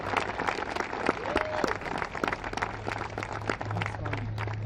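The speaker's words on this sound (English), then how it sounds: "let's give them a round of applause" Applause from an audience at a gathering honouring a volunteer flyover team, steady clapping with crowd murmur and a low engine-like hum running underneath throughout.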